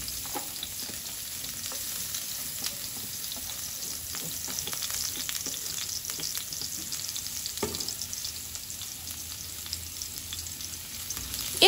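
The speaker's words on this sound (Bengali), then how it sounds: "এরপর আমি পেঁয়াজটাকে সুন্দর করে বাদামি করে ভেজে নেব।" Chopped onions fry in hot oil for a fish curry with tengra fish, giving a steady close sizzle and crackle with frequent stirring scrapes, and no one talking.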